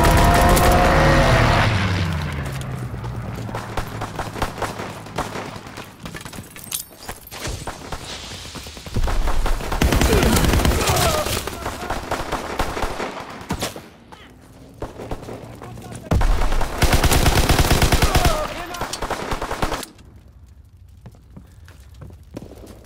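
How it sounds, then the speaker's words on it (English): Aircraft strafing gunfire in a WW2 shooter game: loud, sustained bursts of rapid fire and roaring passes in several long waves, with quieter gaps between and game sounds throughout. "Pilot inbound, strafing the target."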